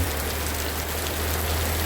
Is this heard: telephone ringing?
no